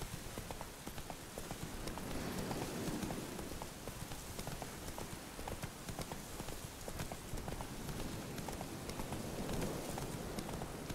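The horse Roach galloping in The Witcher 3 video game, a steady rapid drumming of hooves on the ground that carries on unbroken throughout at moderate volume.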